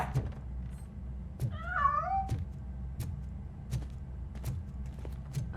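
A cat in RoboCop: Rogue City gives a single short, wavering meow near the middle, set over a low steady game ambience with faint periodic clicks or footsteps.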